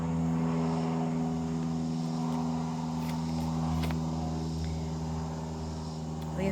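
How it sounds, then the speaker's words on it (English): A small Cessna propeller plane flies over a neighborhood, its steady droning hum sustained and fairly loud throughout with no talk. "fly these little tiny Cessna bumblebee looking things around my neighborhood all the time, and it's very loud and distracting"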